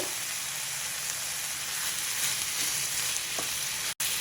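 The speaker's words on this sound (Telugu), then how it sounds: "ఇప్పుడు ఆ టమాటాల్లోనే కొంచెం కరివేపాకు వేస్తానండి" Curry leaves go into tomatoes and onions frying in a pan, a steady close hiss and sizzle with no talking, cutting out for a moment near the end.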